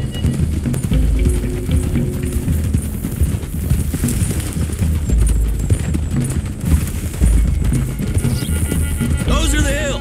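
Hooves pound in a fast, continuous gallop from several horses in Red Dead Redemption 2, loud and close, with voices talking over the drumming rhythm.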